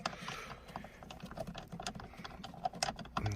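Quick runs of light metallic clicks from a 16mm socket wrench loosening the steering wheel bolt on a BMW E46, close up and fairly quiet, with irregular rattly taps throughout.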